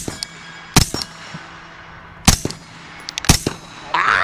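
Three sharp, loud shots from a suppressed Centurion Arms 11.5-inch FBI AR-15 rifle, spaced about a second or more apart, each with a short echoing tail, followed by a low rumble at the end.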